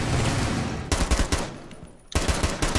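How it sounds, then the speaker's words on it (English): Rapid automatic gunfire from a Rainbow Six Siege-style tactical shooter game, loud bursts of machine-gun fire with a short pause before the shooting resumes. "Stop shooting at my friend"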